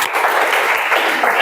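A class of students claps together in a dense burst of applause, loud and close, filling a short stretch without any voices over it.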